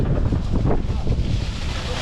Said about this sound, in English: It's pouring the rain down, so sorry if the audio quality is a little bad